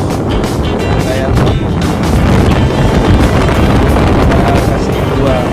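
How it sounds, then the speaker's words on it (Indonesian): Strong wind buffeting a microphone at sea amid big waves while fishing from a boat near Sabang, a loud constant roar with gusting bursts and water wash, and someone speaks over it. "Anginnya kenceng bos, ombaknya besar bos."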